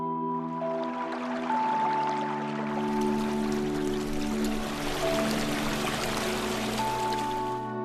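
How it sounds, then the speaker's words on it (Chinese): The Rongbuk river rushes down a glacial valley strewn with boulders at the foot of Everest, a broad, steady stream hiss that swells partway through beneath sustained musical tones. "只有绒布河的溪水潺潺而下"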